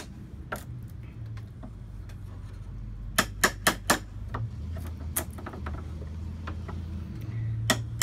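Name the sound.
chisel tapped lightly to pry staples off a mirror back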